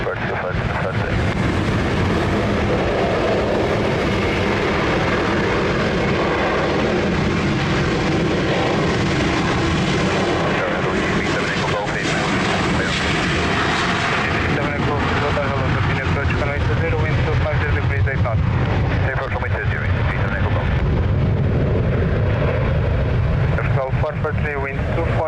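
An Airbus A321 rolling for takeoff on runway 20 at Lisbon Airport, a loud, sustained jet engine roar that holds steady and then slowly eases, with radio chatter underneath.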